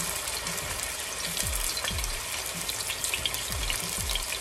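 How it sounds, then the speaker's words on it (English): Pork chops fry in a pan with a steady, dense sizzle and crackle, broken by scattered low thumps and pops; no voices. "we are about to put the pork chops in"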